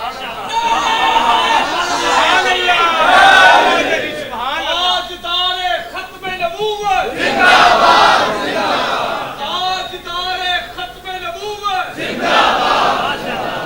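A large crowd at a religious gathering chants Naara-e-Haidri in loud, repeated call-and-response waves, with a leader's voice alternating against massed shouting voices.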